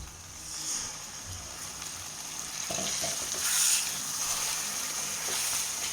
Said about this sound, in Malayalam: നമുക്ക് ഈ ജാറൊന്ന് ഒരു 1/2 കപ്പ് വെള്ളത്തിൽ റിൻസ് ചെയ്തതിലേക്ക് ഒഴിക്കാം.